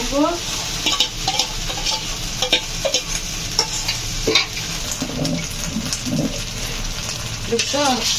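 Khichuri stirred and mixed in a pot on a rainy day, a continuous hiss of cooking under repeated scraping and clanking strokes of a spoon against the pot, with faint background voices.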